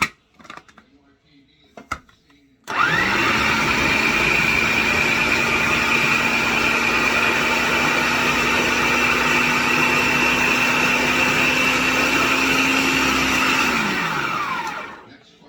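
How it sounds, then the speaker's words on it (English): An electric churning machine mixing homemade cinnamon, nutmeg and honey butter, starting after a few soft knocks, then a loud, steady motor whir that runs evenly for about twelve seconds before spinning down. "And then I'm going to churn it some more"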